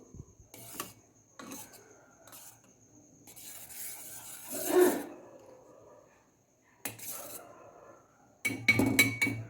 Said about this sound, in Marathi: तर आपण ही मिक्स करून घेऊ